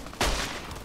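A single sharp gunshot from the Fallout: New Vegas game, a brief loud crack with a short decaying tail, alone and fairly close.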